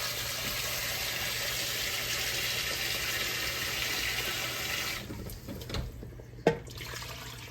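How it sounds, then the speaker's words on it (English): Tap water rushes steadily into a cooking pot for a beef dish for about five seconds, then stops, leaving a few faint clinks and a sharp knock. "So let me get some water here, pour in here."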